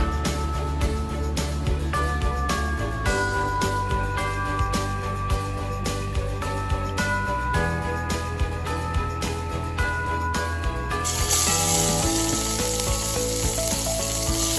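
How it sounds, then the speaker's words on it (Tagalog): Pork fat sizzling and crackling steadily in a hot pan, a dense continuous fry that grows louder and harsher near the end. "unahin natin iprito yung fatty part ng pork"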